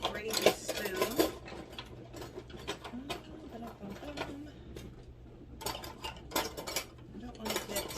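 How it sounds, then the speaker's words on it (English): Metal cutlery and dishes clink and clatter in bursts while someone reaches for a gravy spoon during home Sunday cooking, brief rattles spaced between quieter handling sounds. "Let me grab a gravy spoon."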